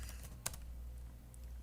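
Computer keyboard typing while writing JavaScript code for a signup form, a quiet run of soft, irregular key clicks over a steady low hum, with one slightly sharper keystroke partway through.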